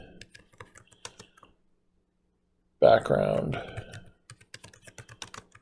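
Typing on a computer keyboard gives quick, light key clicks, heard before and after a short stretch of silence, with someone speaking briefly in the middle.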